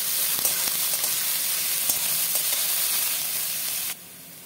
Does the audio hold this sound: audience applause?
no